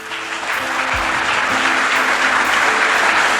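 A church congregation during a sermon breaks into loud, sustained applause, a thick continuous roar of many hands that builds slightly and holds steady throughout.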